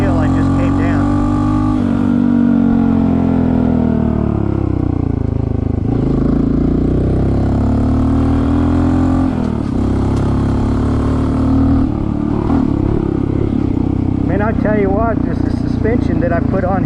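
A Honda CT 125 motorcycle riding uphill off-road gives a loud, steady engine drone that shifts in pitch as it climbs. Someone talks over it the whole way.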